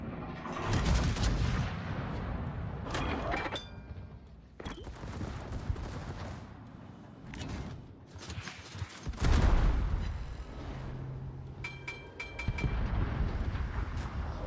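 Battleship gunfire in the naval video game World of Warships, with heavy booming salvos and rolling blasts repeating over a continuous rumble, some shots sharp and close, others duller and more distant, and no talk.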